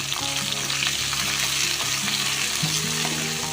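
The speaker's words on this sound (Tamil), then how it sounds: "இது ரொம்ப நேரம் வதங்கணும்னு அவசியம் இல்லை." Tomatoes sauté in a pan for sambar, giving a loud, constant sizzle with a steady bubbling fry and stirring underneath, uninterrupted and free of talk.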